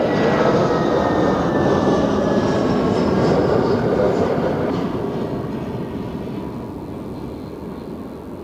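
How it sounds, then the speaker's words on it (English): An Edelweiss A320 airliner landing at Zurich Airport, a loud broad roar of engines and rushing air that holds steady, then slowly fades and lowers toward the end. "here we have an Edelweiss A320 inbound from Larnaca"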